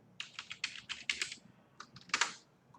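Code being typed on a computer keyboard, a close, quick run of light key clicks in two short bursts separated by a brief pause, with no talking.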